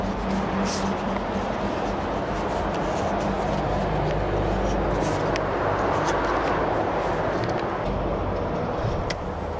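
A cold Mercedes G-Class engine runs with a dense, steady mechanical rumble and clatter, loud and close, continuing without a break throughout.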